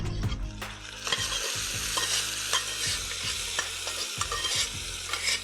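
Food sizzles in a pan on a Tamil cooking show while a spatula stirs and scrapes it, sautéing continuously with repeated clanks, close and clear, with no talking.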